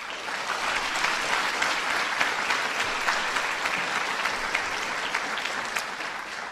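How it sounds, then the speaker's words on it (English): An audience applauds the ambassadors from across ASEAN at a formal address, giving a broad, even roar of clapping from a large crowd that stays steady and somewhat distant throughout. "Give them a big round of applause."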